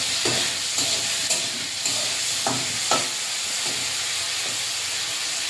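Prawns hiss and sizzle continuously in a hot pan, with several short scraping knocks from stirring at irregular intervals.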